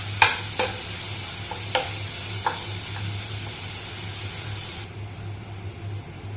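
Mint rice masala sautés in a pan, with scraping stir strokes and sharp clinks in the first half over a soft fry and a steady low hum, then only quiet background noise.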